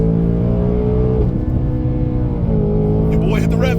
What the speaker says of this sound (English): Your boy hit the rev limiter.